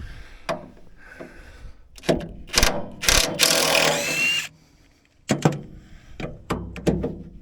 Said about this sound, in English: we've got to take the bolts out of this access panel